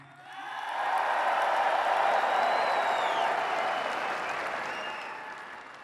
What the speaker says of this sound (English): So let's take a little applause, right?